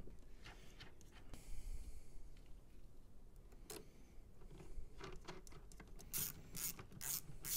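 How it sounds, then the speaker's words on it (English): Ratchet fitted with a half-inch deep socket clicks in short, irregular bursts of pawl ticks while working on a car battery post of a C5 Corvette, close and alone in a quiet space. "Now you are gonna need a half inch deep socket to get onto this battery post right here."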